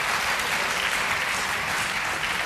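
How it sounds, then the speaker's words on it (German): Studio audience applause on a German late-night talk show, a dense steady wash of many hands clapping close and loud throughout. "Jetzt lässt der Beifall nach."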